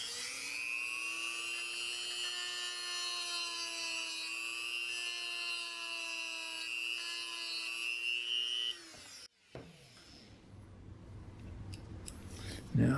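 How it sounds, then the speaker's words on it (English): A Hi-Power pistol trigger lever being trimmed down with a steady high-pitched whining rotary tool, running continuously for about nine seconds before cutting off, close up, followed by quieter handling noise. "I'm going to go ahead and trim the height of that trigger lever down just a little more."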